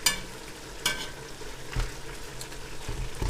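Onions frying in oil in a kazan for plov, a steady close crackle and sizzle with a few louder stirring scrapes, no voices.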